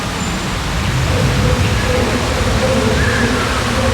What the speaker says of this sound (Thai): โอ้ my god น้ำตกท่านผู้ชม